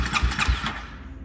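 A motorcycle engine is started during bike maintenance in Kalgoorlie, Western Australia, cranking in quick rhythmic pulses close by and catching into a short rumble, with no talk.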